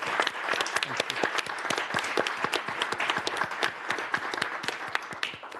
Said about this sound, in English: he deserves our round of applause for that.